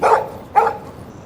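A dog in the video game Life is Strange barks twice, two sharp, close, loud barks about half a second apart with quiet in between.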